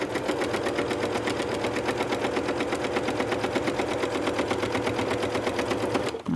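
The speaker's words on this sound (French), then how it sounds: "on va faire la première couture" A sewing machine stitches a first seam along fabric with a fabric guide set in place, its needle pounding in a fast, steady, even rhythm, close and continuous with no talking.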